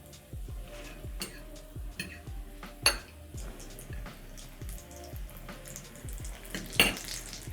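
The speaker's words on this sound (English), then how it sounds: "Then I'm going to place it in my oil carefully." Breaded potato croquettes fry in hot oil with a soft, steady sizzle, broken by light clinks and scrapes of a utensil against the pan and a couple of sharper knocks.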